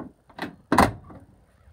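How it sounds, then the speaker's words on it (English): Door of a 1986 Chevrolet C-10 Silverado pickup, a door that only closes when slammed, shut with a single hard, close slam preceded by a brief rattle of the handle and latch. "You just have to slam the door to get it shut."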